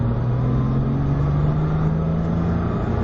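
A car engine hums steadily from inside, its pitch slowly rising as the vehicle gains speed.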